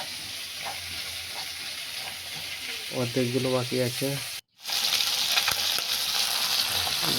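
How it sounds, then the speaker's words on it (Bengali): Small bata fish sizzle in hot oil for a Bengali curry, a constant close crackle; someone speaks briefly midway, the frying cuts out for a moment, then returns loud and dense. "মাছগুলো ভাজা হয়ে যাচ্ছে"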